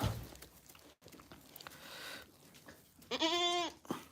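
A single wavering goat bleat rings out near the end, after a stretch of quiet outdoor background noise on a goat farm in cold weather.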